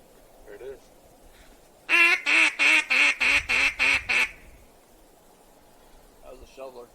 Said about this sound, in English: That was a shoveler.